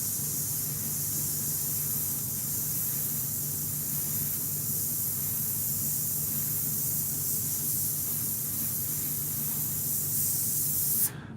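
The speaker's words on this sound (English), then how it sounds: "as I'm spraying with the airbrush, it's just naturally like overspraying onto the edge" Airbrush spraying paint over a stencil, a steady close hiss of compressed air and atomised paint that runs unbroken for about eleven seconds and cuts off at the very end.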